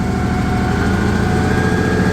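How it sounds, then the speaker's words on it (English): Tractor engine running with a steady, loud throbbing drone and a faint whine on top, heard close from inside the cab. "A little noisy in this tractor, but oh well."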